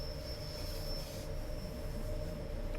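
A three-car train unit hauling extra passenger coaches rumbles steadily in Train Sim World 4, a constant low rolling drone with a thin high whine running over it, alone without talk.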